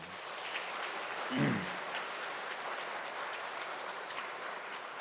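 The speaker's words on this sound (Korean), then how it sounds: "여러분 다시 한번 박수 한번 해보세요." A church congregation at a Sunday service claps together in a faint, distant-sounding patter of many hands that carries on steadily throughout, with one brief, low thump early on.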